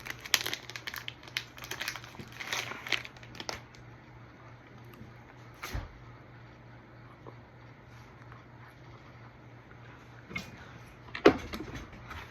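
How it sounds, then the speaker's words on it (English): Paper towel is spread out on a workbench while building 3-D archery arrows, giving a cluster of soft crinkling and rustling at the start, then quieter handling noises with a faint steady hum underneath. "First off, I need to put paper towel down."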